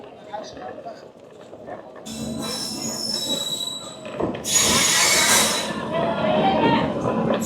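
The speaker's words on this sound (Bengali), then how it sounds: "ট্রেন ঢুকে গেল" The Rajdhani Express rolls into Mathura station with high, piercing wheel squeals and rumbling carriages that grow louder and nearer, while people talk on the platform.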